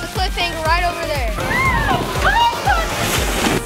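Water park slides with repeated splashes and sloshing water, close and lively, while people's voices talk and call over the splashing.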